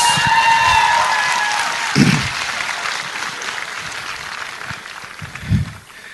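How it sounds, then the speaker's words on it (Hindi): Applause from a live audience at a motivational talk by Kankan Bhattacharyya, a broad steady patter of clapping that thins out gradually, with a few louder thumps along the way. "थोड़ा देर मैंने टाइम वेस्ट किया कि थोड़ा तालियां और सुन लो"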